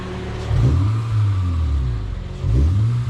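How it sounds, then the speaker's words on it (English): A 3rd Gen Acura TL engine revs up twice, the deep exhaust note rising and falling with each loud, close throttle blip. "we're gonna do a rev real quick before he shuts it off."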